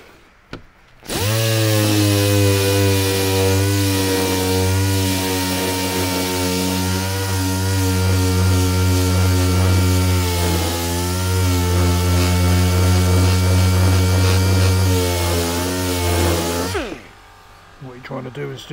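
A power sander with 180 grit works body filler on a Suzuki Wagon R car wheel during refurbishment, giving a steady droning motor whine that starts abruptly, holds for about sixteen seconds with slight wavering, then cuts off.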